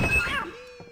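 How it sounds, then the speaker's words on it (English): A cat in Silent Hill gives a single short, strained meow that rises and then trails off, close and clear, followed by a faint thud. "Oh, it's a kitty cat."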